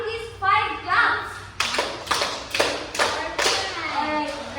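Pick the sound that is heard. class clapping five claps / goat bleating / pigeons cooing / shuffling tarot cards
class clapping five claps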